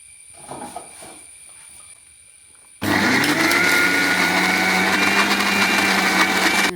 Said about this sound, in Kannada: ಮಿಕ್ಸಿಯಲ್ಲಿ ಹರ್ಕೊಂಡು ಬಿಡುವ ಇದನ್ನು